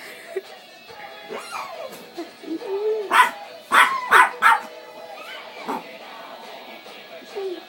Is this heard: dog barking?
yes